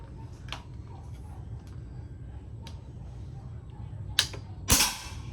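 A PCP air rifle fires a locally made pellet outdoors. After a stretch of quiet ambience, two sharp close cracks come near the end, and the second is the louder one.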